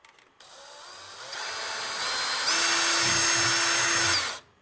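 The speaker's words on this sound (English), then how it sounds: "Maybe drill a hole in here." An electric drill whines up to speed and holds a steady high-pitched spin for a few seconds before stopping abruptly, drilling a hole in an Epson WorkForce 3540 printer.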